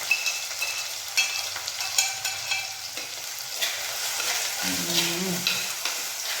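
Shallots and curry leaves frying in hot coconut oil, a steady close sizzle with the scrape and clatter of stirring and a brief low hum partway through.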